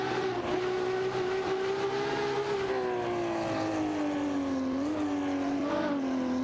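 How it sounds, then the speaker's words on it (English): Race car engines, including a Dower 962 LM and a Porsche 911 GT1, drone in a racing video game with AI drivers, a loud sustained tonal whine that slowly dips and rises in pitch with shifts, continuous throughout. "A battle is on between Themamestic in a Dower 962 LM and Hunan Cipher in a Porsche 911 GT1"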